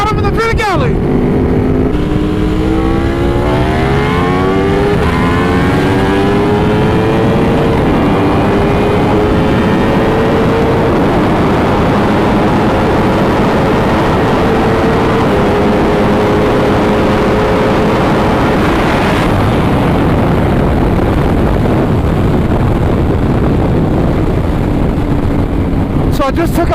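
A Ducati Panigale sport motorcycle at speed on a group street ride, its engine loud and sustained with rising and falling revs as gears change, blended with heavy wind rush close to the rider.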